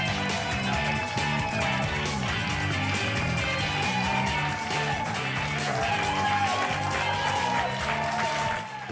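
Dense, sustained applause from a television studio audience welcoming a panel of doctors, steady and loud throughout with music-like tonal layers underneath.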